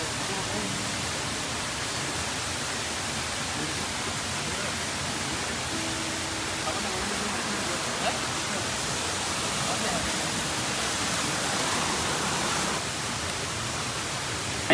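Kak Ella waterfall roars as a steady, broad rush of falling water throughout, close and constant, with faint voices buried underneath.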